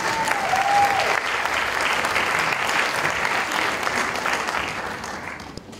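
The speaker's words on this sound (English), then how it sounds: "So can I have another round of applause for the choir for yourself, please?" An audience at a church choir concert applauds the choir, a dense, steady wash of clapping that holds evenly for several seconds and then begins to thin and fade.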